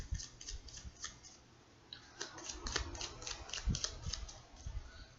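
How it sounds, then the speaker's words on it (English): Tarot cards being shuffled by hand, quiet crisp riffling and snapping taps in quick bursts, close and faint with no talking. "3 more shuffles,"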